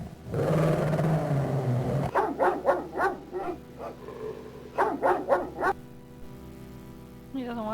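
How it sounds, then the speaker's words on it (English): A dog in the video game King's Quest 7: The Princeless Bride barks in a quick series of sharp, loud yelps in two bursts, after a short stretch of speech at the start. "the dog will bark once we're on the other side of him"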